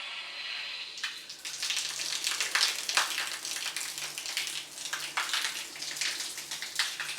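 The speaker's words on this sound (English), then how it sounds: "we're going to run some water through it and just make sure there's" Water gushing from a newly installed 12-inch rain shower head on a 16-inch overhead arm, a dense steady splashing spray that starts abruptly and continues loud and close without pause.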